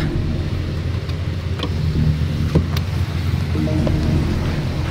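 Steady heavy rain falls amid a low rumble of road traffic, held up by a fallen coconut tree on the way to Bicol, with a few sharp taps and knocks scattered through.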